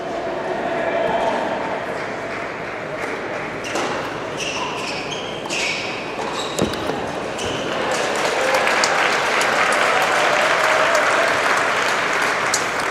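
Spectators at a professional indoor tennis tournament applaud and cheer in a steady wash of clapping, with occasional shouts and a sharp ball or court knock partway through, fairly loud and continuous.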